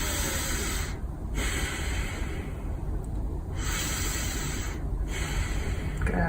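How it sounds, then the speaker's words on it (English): A slow, deep chest breath demonstrated up close: a long, steady airy inhale and exhale that repeats in broad, breathy waves with brief pauses between, loud and alone without talk. "I'm gonna demo a chest breath first here"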